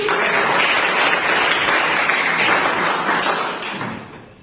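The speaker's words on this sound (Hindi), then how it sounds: "अच्छा, तालियां होनी चाहिए।" An audience at a business talk about farming products breaks into loud, dense applause, many hands clapping steadily and close by before the sound tapers off near the end.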